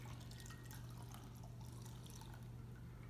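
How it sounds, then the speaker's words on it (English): Hot soapy water poured over a wet-shaving brush, a soft close trickle and drip under a steady low hum, faint and continuous with no talk. "the hot water from the soap, you pour it over your brush"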